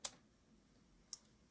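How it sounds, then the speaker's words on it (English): Wire cutters snip wires on a Hornby model train DMU, two sharp, close clicks about a second apart against near silence. "Let's get some wire cutters. Maybe we'll just snip these off for now."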